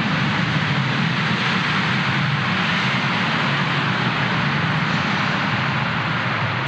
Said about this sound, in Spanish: Pasan los aviones porque estamos en el aeropuerto de Mérida